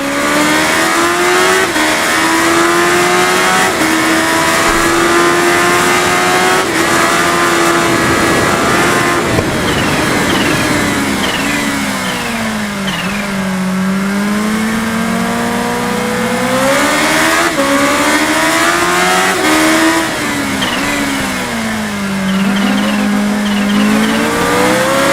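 Kawasaki Ninja H2, a limited-production supercharged superbike in the RIDE racing game, its engine revving loud and close, rising and falling in pitch through repeated gear shifts and throttle swells over a sustained run.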